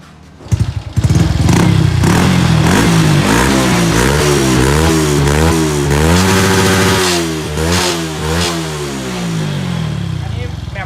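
A motorcycle fitted with a new aftermarket exhaust pipe revs hard and steadily for about ten seconds, loud and close, the engine note rising and falling in repeated throttle blips. A voice speaks over it.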